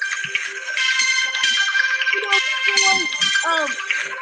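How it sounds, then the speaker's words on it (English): A mobile phone ringtone plays steadily for several seconds, a bright, repeating tonal melody, while people talk over it in a lively morning studio show. "Somebody's ringing."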